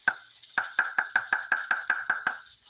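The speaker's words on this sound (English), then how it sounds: "stir the cocoa in" A spoon taps and scrapes rhythmically against a pot while cocoa is stirred in during homemade chocolate making, about a dozen evenly spaced strokes, close and clear with no talking.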